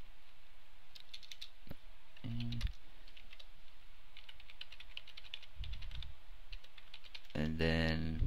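A password is typed on a computer keyboard in light, scattered clicks over a steady background hum, with a few louder thumps and a brief burst of other sound near the end.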